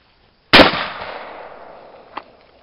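A Norinco JW-83 shotgun loaded with IVI Imperial number 5 high-brass shells fires one loud, sharp blast that rings out and decays slowly, followed by a much fainter metallic click a moment later.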